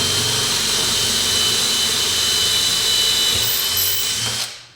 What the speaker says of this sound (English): make sure my drill is straight.